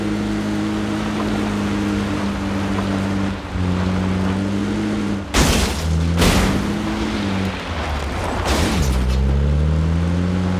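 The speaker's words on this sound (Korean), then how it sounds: "총소리." Gunshots in the video game PUBG: several loud sharp bangs around the middle and later part, cutting over a steady droning vehicle engine that shifts pitch.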